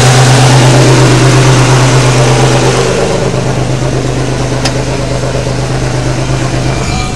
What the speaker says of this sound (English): And yes, it still has a bit of an exhaust leak